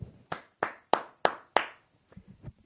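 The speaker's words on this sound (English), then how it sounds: "I got to put down the mic for half a second and just applaud you" Five crisp hand claps ring out at an even pace, sounding close and fairly loud, followed by a few softer knocks and rustles.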